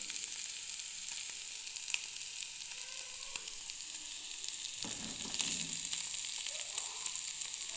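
Bitter gourd fries in hot oil with a steady, bright sizzle, punctuated by occasional stirring scrapes and small pops, heard close and continuous without speech.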